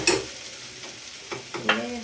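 Onions sautéing in a pan for prawn gravy, a soft ongoing sizzle broken by a few sharp spatula scrapes and clinks against the metal, close and quiet with no talk.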